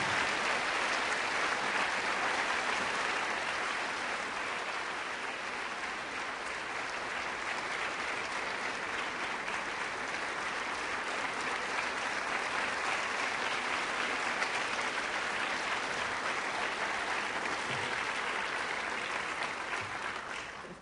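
Sustained applause from an audience welcoming a speaker at a political campaign event, a dense, steady wash of clapping that holds for about twenty seconds before tapering at the very end.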